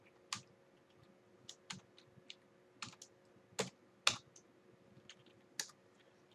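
Irregular keystrokes on a computer keyboard, a dozen or so light clicks in uneven bursts, close but faint over a quiet room hum with no speech.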